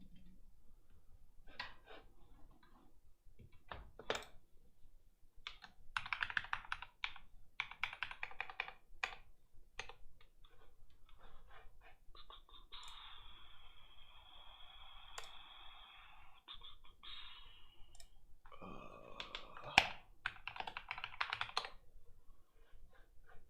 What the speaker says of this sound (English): One of the joys of being in this new space is the mechanical keyboard that has been set aside for quite some time.